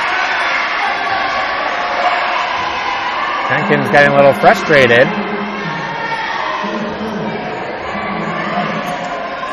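Basketball crowd at a men's college game between UDC and Molloy, a steady arena crowd murmur that swells into a brief burst of shouting and cheering midway, with a commentator talking over it throughout.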